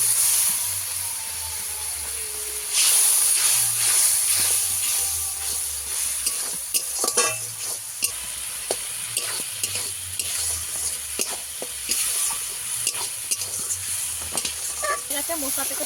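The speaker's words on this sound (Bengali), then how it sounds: "একটু জল দিয়ে ভালো করে কষিয়ে নেবো মশলা" Masala spice paste stir-fried with a splash of water for a fish curry, loud close sizzling and hissing with steady stirring scrapes throughout, with a brief voice near the start.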